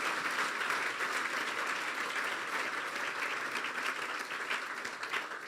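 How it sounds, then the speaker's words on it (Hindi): A church congregation at Ambassadors of Christ Apostolic Church in Dubai claps together in continuous, even applause that fills the room, moderately loud and gradually easing toward the end. "यीशु के लिए हैं ये तालियां।"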